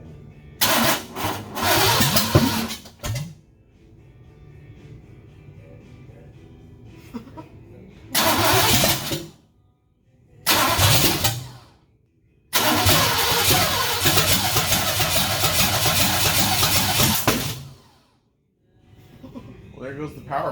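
A 1967 Ford F100 truck engine cranks in repeated grinding bursts of several seconds each, the longest catching into a rough running roar before it cuts out, with people talking between attempts.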